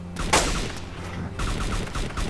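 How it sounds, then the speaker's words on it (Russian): Gunfire crackles in the survival game DayZ: a short burst of shots, a pause, then another rapid volley, all sounding somewhat distant and muffled. "В баре где-то стреляют."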